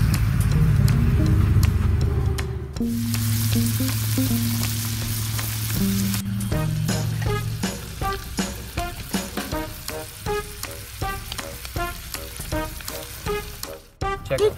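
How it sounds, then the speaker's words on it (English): Steak fries in plenty of butter with a crackling sizzle and a quick run of sharp pops. A low engine-like hum runs underneath at first, then the frying carries on alone. "First steak, here we go, and lots of butter."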